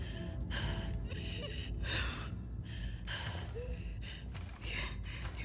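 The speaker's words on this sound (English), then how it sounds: "Your breathing's worse." A video game character breathes heavily in a chase, a string of ragged, loud gasps and breaths repeating close up with no talking.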